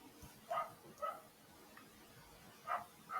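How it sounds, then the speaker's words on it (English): A dog barks outdoors somewhere beyond the room, four short muffled barks in two pairs with a quiet gap between, faint and distant against a low background. "Oh, that's a dog barking outside"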